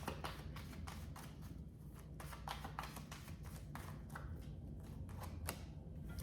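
Tarot cards shuffled again and again in quick, crisp bursts of papery flicks, close up, with a steady low hum underneath and no talking.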